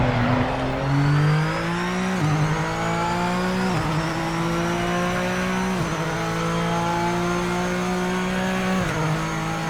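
A GT3 race car engine in the racing game PMR screams at high revs, then drops through several quick downshifts with sharp pitch falls, loud and close throughout.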